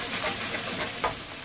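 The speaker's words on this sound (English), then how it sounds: "So I just stir this now and get those onions coated quickly." Onions and spices stirred as they fry in a pan for a potato and cauliflower curry, giving a steady close sizzle with soft scraping strokes throughout, no voices.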